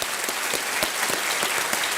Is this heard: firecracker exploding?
no